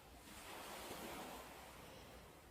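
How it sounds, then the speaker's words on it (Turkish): Gentle ocean waves wash onto a beach shore in a steady, soft surf hiss that swells slightly mid-clip and then eases back, with no voices present. "Dalganın kıyıya vuruşunu dinleyin."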